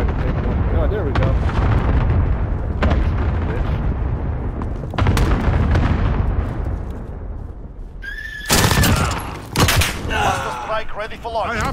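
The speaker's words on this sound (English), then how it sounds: "Allied cluster strike incoming." Allied cluster strike explosions in Call of Duty: a run of heavy, booming blasts rumbling one after another, then a few sharper, louder bursts near the end, with a voice talking over the barrage.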